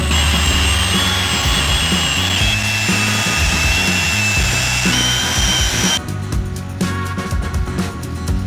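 A power drill with a mixing paddle stirs TotalBoat epoxy resin for a bowl project, a loud steady whine running continuously, shifting to a rougher, fluttering tone near the end.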